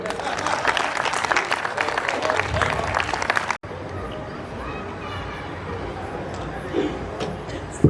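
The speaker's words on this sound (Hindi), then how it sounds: "ताली बजाओ एक बार।" Audience applause at a bank's foundation day cultural program, loud and sustained for several seconds before cutting to a quieter hall with murmuring crowd noise and scattered sounds.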